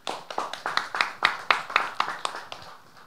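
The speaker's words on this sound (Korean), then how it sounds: "여러분, 우리 한산 모시에 계시는 관계자 여러분께 다시 한번 큰 박수 부탁드립니다." Slow, rhythmic clapping at a Hansan ramie culture festival forum, about a dozen distinct claps in a steady beat, fairly close and moderately loud with no talk.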